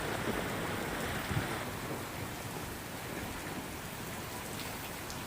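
Steady heavy rain falling with wind in Amreli, Gujarat, a dense, continuous hiss and patter close by that never lets up, with no voices.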